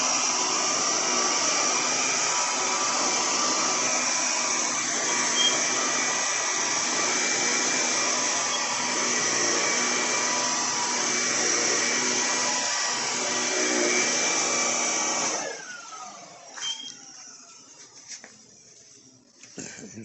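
An Electrolux Olympia One vacuum cleaner runs with a steady, loud broadband whine for about fifteen seconds, then switches off and winds down, leaving faint handling noises.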